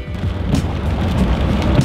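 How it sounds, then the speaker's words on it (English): Heavy rain pours down in a dense, steady wash with deep rumbling underneath, loud and close, with no voices. "it started raining and raining, almost like sleeting, but no, just raining and a lot, a lot, a lot of rain"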